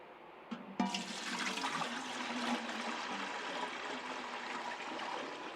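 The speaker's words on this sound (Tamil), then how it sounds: "அதில் நான் தண்ணி ஊற்றி காட்டுறேன் பாருங்கள்." Water pours into a stainless steel storage container in a sustained gushing splash that starts with a couple of knocks and stays steady and close to the end.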